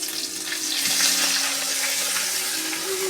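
Ginger garlic paste fries in a hot pan, giving a steady, dense sizzle and crackle close by that runs without a break.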